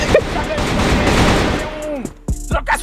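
Rapid exchange of gunfire in a first-person shooter video game, a dense burst of continuous shots followed by a few sharper single reports, loud, with a voice briefly audible under it.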